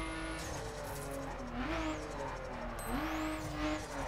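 A Cadillac's engine drones steadily in the video game The Crew, with the whine of a turbo spooling up and whistling twice.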